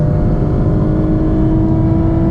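Porsche GT4 RS engine on a mountain road climbing toward the Kaunertal glacier, a steady loud drone with strong low rumble and a held note, no sharp revs, continuous throughout with no talking.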